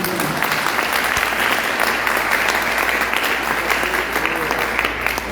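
Church congregation claps steadily to welcome visitors, a loud, continuous wash of many hands filling the room without letting up, with a low hum underneath and no talking over it.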